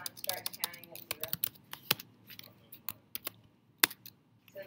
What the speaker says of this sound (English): while he's typing that up